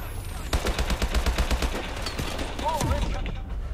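Unsuppressed gunfire in Call of Duty: Advanced Warfare, a rapid string of sharp shots in quick rhythm followed by scattered bangs and a whining tone, loud amid game ambience.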